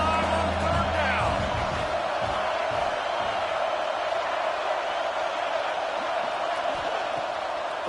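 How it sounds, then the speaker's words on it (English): Ohio State Buckeyes home crowd roaring in a football stadium on third down against Notre Dame, a steady loud wash of cheering that fills the whole stretch, with a broadcaster talking over it. "The Buckeye crowd alive on third down."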